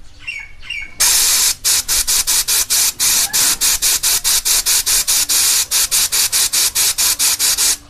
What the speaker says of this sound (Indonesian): Kita semprot di bagian atasnya pakai kompresor lagi.